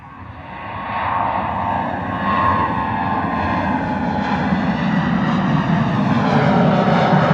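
A jet airliner departs from runway 09 at Bristol Airport, its engine roar swelling from moderate to loud and holding as a sustained, rumbling whine heard from outside near the field.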